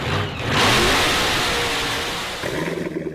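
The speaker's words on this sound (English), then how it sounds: "That's the sound of America's only sports car." A Chevrolet Corvette sports car engine revs up hard, close and loud, holding a high roaring pitch before easing back down and settling into a lumpy idle.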